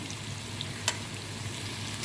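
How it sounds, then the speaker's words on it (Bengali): Rice frying in a pot for a chicken and green pea pulao, a soft, steady sizzle with a faint crackle and one brief clink partway through. "তো চালটা আমি ভাজা ভাজা করে নিম।"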